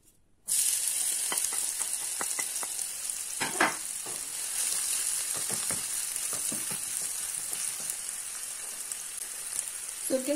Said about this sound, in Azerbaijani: supumuzun soğanını qızardırıq